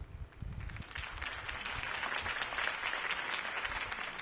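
Steady crowd applause rises after a campaign speech by Harvey Dent in the Batman Telltale game, a dense, continuous clapping wash that holds at an even level for several seconds with no one speaking.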